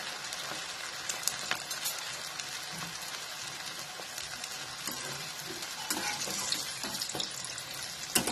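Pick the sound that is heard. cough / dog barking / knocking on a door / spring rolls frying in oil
spring rolls frying in oil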